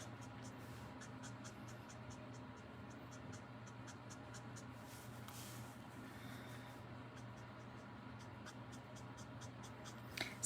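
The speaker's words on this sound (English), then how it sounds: "I'm just barely skimming the tip of the marker across the paper." A marker tip barely skims across paper while making a Christmas card, a faint, rapid series of light scratchy ticks in quiet strokes, close up and otherwise near-silent.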